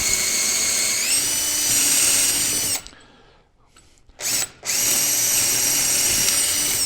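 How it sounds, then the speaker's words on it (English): A power drill with a 1/4-inch bit whines steadily at close range drilling ventilation holes in a wooden birdhouse roof line, drops out briefly as it stops, spins up again for a moment, then resumes running continuously. "I've got a 1/4-inch bit in my drill, and I'm going to drill"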